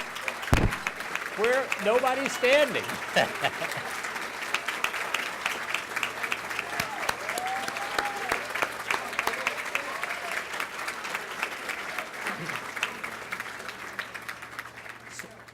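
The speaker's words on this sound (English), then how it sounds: "please stand and receive some applause" A large audience claps steadily for SWIM volunteers at an evening program, broad sustained applause filling the room with scattered voices and a brief shout mixed in, tapering slightly toward the end.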